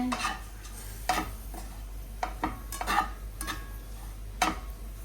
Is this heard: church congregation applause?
no